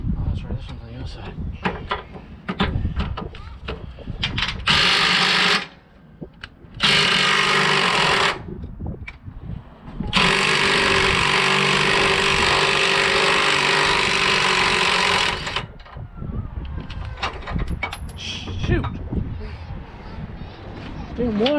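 Impact wrench removing lateral torque bars on a 2015 Freightliner Cascadia, several loud rattling bursts of a few seconds each, one running about five seconds, close up between stretches of talk and clanking.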